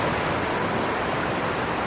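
A snow-fed river runs through Zweisimmen in the Bernese Oberland, producing a steady, loud broadband rush of flowing water with no breaks, heard close and alone.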